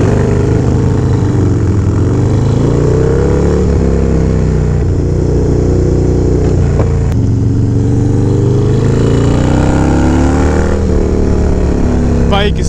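A Harley-Davidson Dyna Low Rider S motorcycle engine runs steadily and loud on a chilly morning, a deep continuous rumble with slight swells in pitch, like low revving, and a voice talking over it.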